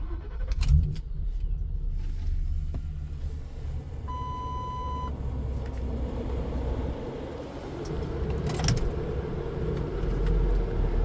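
A 2011 Lincoln Town Car driving, with a steady low road and engine rumble throughout, a short electronic chime tone partway through, and some brief clicks and bumps.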